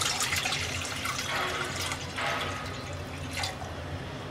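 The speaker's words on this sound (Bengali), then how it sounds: "চুলায় একটা কড়াইতে দিয়ে দিচ্ছি পরিমাণ মতো পানি" Water poured into a wok on a stove, a steady splashing, gurgling stream with a few brighter surges, moderately loud and alone without talk.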